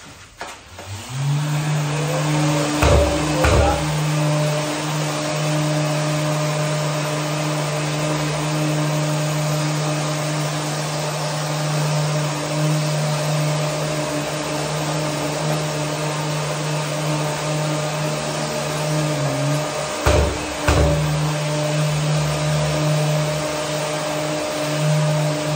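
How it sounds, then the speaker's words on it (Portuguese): An electric sander runs against a wall being prepared for a faux marble finish, giving a steady, loud, continuous whine for over twenty seconds with a couple of brief dips in pitch. "vamos terminar o lixamento"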